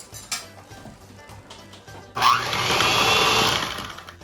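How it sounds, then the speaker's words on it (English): An electric mixer starts up around the two-second mark and runs loud and steady, beating butter for lemon brownies, after a quieter stretch of bowl and utensil clatter. "you're going to go ahead and put the mixer in"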